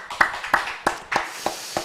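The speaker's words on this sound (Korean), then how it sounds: "하나님께 영광의 박수 올려드리겠습니다" A few hand claps ring out in a Korean church's Friday late-night prayer meeting, sounding as about six separate, evenly spaced slaps rather than a dense crowd ovation, fairly close and without talking.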